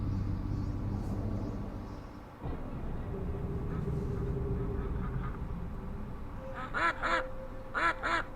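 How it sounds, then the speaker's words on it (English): Repeated duck quacks in the shooter game Killing Time Resurrected come in two short bursts near the end, over a steady low ambient rumble. "the only thing that's left out here are just a handful of ducks"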